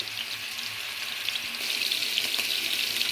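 Pangas fish pieces frying in hot oil give a steady, close crackling sizzle that grows a little louder midway, with no talking.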